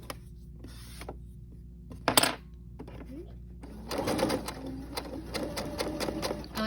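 A Brother SE600 sewing machine stitches a fabric napkin, a short buzz near two seconds and then a faster, busier mechanical whirring run from about four seconds on, with a person talking intermittently over it.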